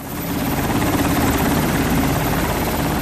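A helicopter transports seriously injured earthquake victims from a field hospital to hospitals in nearby provinces. Its rotor thumps close and loud in a steady, continuous roar.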